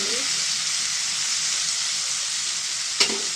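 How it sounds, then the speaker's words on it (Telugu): Sliced onions hiss loudly and continuously in hot oil left from frying dried fish, a close, steady sizzle that lasts throughout, with a single sharp utensil knock near the end. "ఇప్పుడు ఇదే ఆయిల్లోని ఉల్లిపాయలు వేసుకోండి ఇది కూడా బాగా ఫ్రై అవ్వాలండి"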